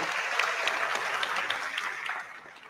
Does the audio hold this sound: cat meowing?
no